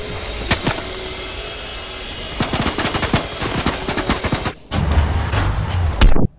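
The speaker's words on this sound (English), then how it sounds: "he's shooting me with the turret" Turret gunfire in the Fortnite video game, rapid bursts of automatic shots rattling close and loud, pausing briefly, then a heavier roaring blast toward the end, with no voices.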